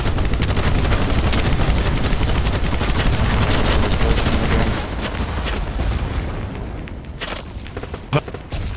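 Covering gunfire in the video game BattleBit Remastered, a dense continuous rattle of automatic fire that thins out midway into scattered louder shots, heavy and close throughout.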